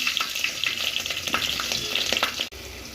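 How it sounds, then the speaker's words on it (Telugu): Green chillies frying in oil in a thick kadai, a loud continuous crackling sizzle with quick spattering pops that cuts off abruptly near the end. "ఇలా మందపాటి కడాయి ఒకటి పెట్టుకొని అందులో కొంచెం ఆయిల్ వేసి 4 పచ్చిమిర్చి,"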